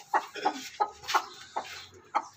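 A broody hen hatching eggs clucks in a steady series of short, close, moderately loud calls, about eight clucks in quick succession with no talking over them.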